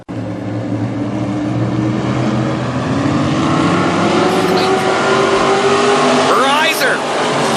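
WISSOTA Midwest Mod race cars roar steadily around a dirt speedway, engines droning loudly and continuously at close range, with a rising whine near the end.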